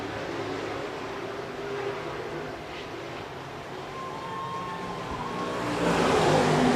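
A late model race car roars around Shelby County Speedway in a steady, moderately loud engine drone with crowd and track noise, swelling louder near the end as the car sweeps toward the turns.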